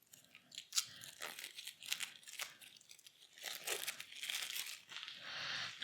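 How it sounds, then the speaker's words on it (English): Faint crinkling and tearing of plastic wrap as a deck of God of War card game cards is unwrapped, a steady run of close, soft rustles and crackles with no talk. "Now let's open up the last deck of cards"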